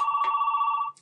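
A telephone rings during a lecture, a single steady electronic ring lasting about a second, moderately loud and alone, ending abruptly.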